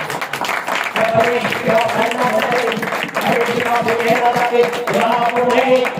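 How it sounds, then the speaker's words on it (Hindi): Congregation clapping and applauding during a Hindi church sermon, a dense steady patter of many hands lasting throughout, mixed with some voices. "क्या जोरदार ताली ना बजाएं?"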